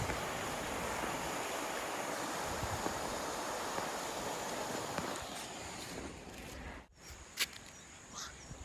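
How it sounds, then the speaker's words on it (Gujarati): Floodwater rushes down the Sabarmati River near Dharoi Dam, a dense, steady roar close by that holds level throughout, with a brief dip and a few thumps near the end. "આ છે મિત્રો સાબરમતી નદી જો આ ટાઈપથી પાણી આવે છે"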